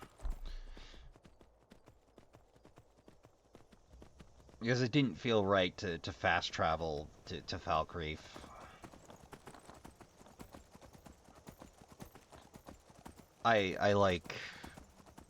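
Steady, rhythmic clip-clop of horse hooves plodding along in the video game Skyrim, quiet and continuous, while a person talks over it in several stretches.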